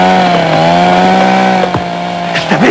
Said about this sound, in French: Je t'avais dit d'arrêter cette tronçonneuse!